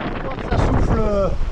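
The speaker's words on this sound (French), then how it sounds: "Là on voit que ça souffle" Strong wind of about 28 knots buffeting a sailboat at sea, a steady broadband roar with heavy gusting on the microphone, while a voice speaks over it.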